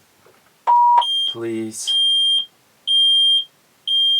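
A John Deere 9530T tractor's warning alarm beeping, a high steady electronic tone sounding in repeated evenly spaced pulses, with a brief lower tone and a spoken word near the start.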